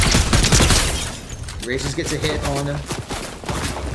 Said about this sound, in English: Still receiving a lot of gunfire.